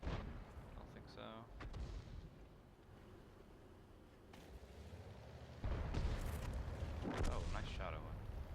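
Tank cannon fire in World of Tanks from an M18 Hellcat match, a few heavy booming shots and impacts over rumbling battle ambience, with someone talking over it.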